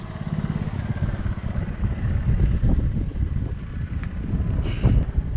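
Heavy wind buffets the microphone in a constant low rumble, loud and rough throughout, with a vehicle motor droning underneath.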